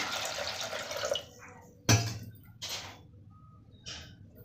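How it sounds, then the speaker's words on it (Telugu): Short bursts of water splashing and trickling into a pressure cooker holding black-eyed peas, a few separate pours with quiet gaps between them, close by. "అలసందలు కుక్కర్లో వేసుకున్నాను కొద్దిగా వాటర్ వేసుకొని"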